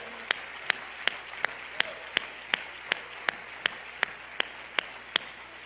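A slow, steady series of single sharp claps during a church service, about two per second, evenly spaced over a faint background hum.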